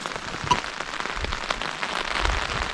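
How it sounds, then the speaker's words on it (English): Rain falls steadily on a temporary shelter on a mountain during an Alaska moose hunt, a dense patter of drops with occasional sharper taps and low thumps, heard close and alone. "It's been raining off and on all day"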